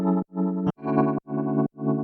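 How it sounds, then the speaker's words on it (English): Dry Rhodes electric piano from the Keyscape LA Custom Univibe preset with the effects switched off, playing a sequence of sustained chords, each held about half a second with short gaps between them, close and clear with no talking. "So I end up with this Rhodes LA Custom Univibe preset"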